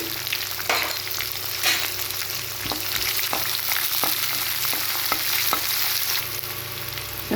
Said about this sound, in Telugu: ఇప్పుడు ఆనియన్స్ వేస్తున్నానండి